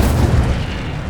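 Incendio fire spell cast in the Hogwarts Legacy video game, a brief loud whooshing boom with a rumbling low roar that quickly settles.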